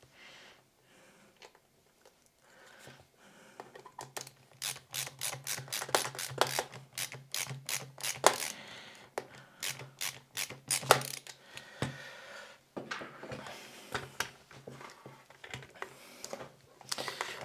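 A screwdriver with a gamebit driver turning the security screws on a Nintendo 64 console, a long run of close, rapid ratcheting clicks in bursts with short pauses, steady and fairly quiet.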